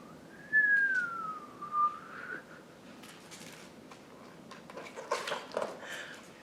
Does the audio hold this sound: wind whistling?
yes